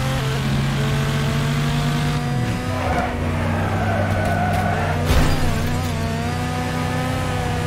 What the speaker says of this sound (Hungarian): Milyen autónak van ilyen hangja mögöttem?